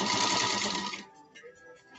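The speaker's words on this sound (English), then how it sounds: "Let me drop that presser foot again. Let's sew across." A 1952 Singer 301 sewing machine stitches across fabric with a steady, close mechanical whir for about a second, then stops, leaving soft handling sounds and faint clicks.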